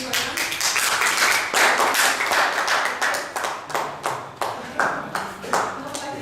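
Audience applause for two debate teams at the American University of Sharjah, a burst of many hands clapping that thins into scattered, separate claps as it fades, with a few voices underneath.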